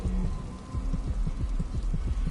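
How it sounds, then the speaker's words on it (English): Rhythmic low heartbeat thumps from the video game Stab Simulator 2000, pulsing steadily about four times a second beneath a constant humming game ambience, with no talking. "why is my heart beating?"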